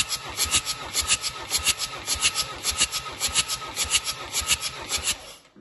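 A 2000 Ford Transit 2.4-litre D2FA diesel engine cranking over on the starter during a compression test on the first cylinder, a steady rapid rhythmic churning with no speech.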